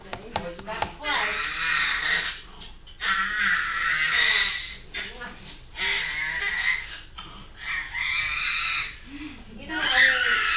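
A baby screams in a series of loud, high-pitched, strained bursts, each lasting a second or two, separated by brief breaths and pauses.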